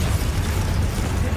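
Spell-casting explosion effects in the Hogwarts Legacy video game rumble as a dense, loud, low booming wash, continuous and close throughout the short stretch.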